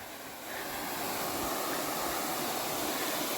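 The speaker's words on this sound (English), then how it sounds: "I heard running water" Running water of a small creek with a little dam near a limestone cave in Iowa, a steady broadband rush that swells after the first half second and holds constant, close and alone with no voices.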